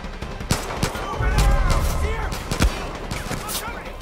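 Rapid gunfire bursts crack through a Far Cry firefight, sharp repeated shots and rattling automatic fire over chaotic game noise, with voices shouting in the mix.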